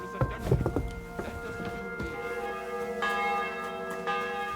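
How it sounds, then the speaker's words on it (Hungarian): Church bells toll in the Kingdom Come Deliverance 2 video game, several strikes ringing out with long, shimmering overlapping decay, clear and moderately distant with no talk over them. "Megint nagyon harangoznak."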